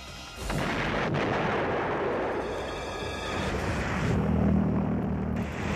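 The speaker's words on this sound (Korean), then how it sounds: "한동안 소리가 사라지고 난 뒤에 어김없이 폭발이 일어났다" A V1 missile explosion: a deep, rumbling blast rolls on and on, heavy low roar filling the space with a distant thundering boom.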